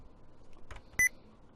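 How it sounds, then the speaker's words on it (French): A single short computer beep from the caps lock key being pressed sounds once, clear and fairly loud, after a brief soft clatter of keys, over a quiet background. "Excusez-moi pour le gros bip bip. Mais c'est le cap lock."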